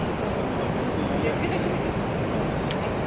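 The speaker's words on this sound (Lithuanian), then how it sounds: "Bet tai bangos, kokios bangos." Sea waves roll in along a beach in Bali, a dense, steady roar of surf with wind-like hiss, loud and close throughout.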